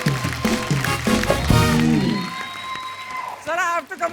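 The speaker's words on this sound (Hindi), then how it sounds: "जोरदार तालियां एक बार एकता और जीतू सर के लिए" Loud studio audience clapping for Jeetendra and Ekta Kapoor on a Hindi TV comedy show, strongest in the first two seconds then fading as a host speaks over it.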